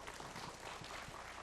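Brief, distant applause from participants at a disaster-response drill in Busan's Seo-gu district, a dense soft patter of many hands.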